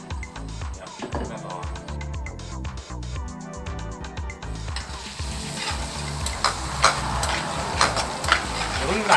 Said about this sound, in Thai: เจียวกระเทียม